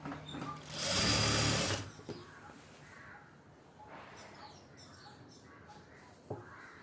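An electric sewing machine stitching a pair of shorts in a tailoring class runs in one loud, close burst of about a second, then stops, leaving quiet room sound with faint background noises.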